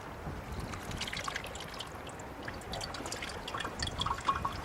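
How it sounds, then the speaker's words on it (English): Dirty water with gunk in it pours through a homemade sand filter and drips into a glass, making a steady soft trickle with scattered drips, faint and close, with no talking. "when I pour in this foul water with all that gunk in it, it should come out crystal clear and ready to drink"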